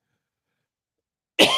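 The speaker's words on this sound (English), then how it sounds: "Stupid cough." One abrupt, close cough bursts out after a long stretch of silence and is cut off right at the end.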